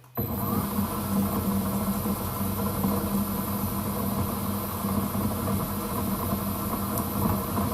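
Metal lathe running in back gear at low speed while parting steel, a steady close mechanical hum with a constant high whine, continuous and alone throughout.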